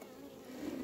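Honeybees buzzing at open hive frames, a steady, close, continuous drone with no talk, swelling slightly louder toward the end.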